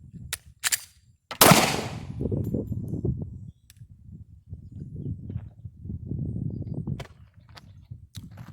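A handgun goes off with one loud, sharp crack at a shooting range, followed by low muffled rumbling and handling noise, with a few fainter distant pops before and after.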